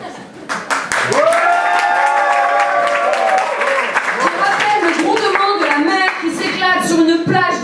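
An audience claps after a poetry-comedy stage performance at the Le Nouveau Cosmos restaurant, with sharp scattered claps mixed with loud voices and cheering for several seconds.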